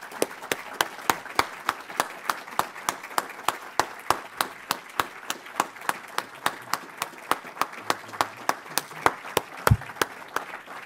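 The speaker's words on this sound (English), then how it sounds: "So let's give them a round of applause." Audience applause at a groundbreaking ceremony for a new university building, Golkin Hall, a steady rhythmic patter of many hands clapping in fairly even beats for about eleven seconds, moderately loud and without talk.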